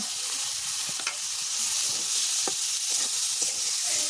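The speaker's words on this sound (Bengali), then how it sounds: "সেদ্ধ করে রাখা বাসকরুল আর কাঁঠালের বিচি দিয়ে ভালো করে মিশিয়ে নেব" Boiled bamboo shoots and jackfruit seeds stirred in a frying pan, a steady hiss of frying with several sharp scrapes and clacks of the spatula spread through the clip.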